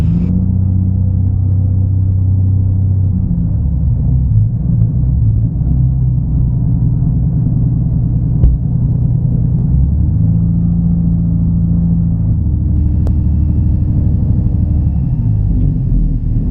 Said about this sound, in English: Let's go ahead and taxi away from the hangar just a little bit.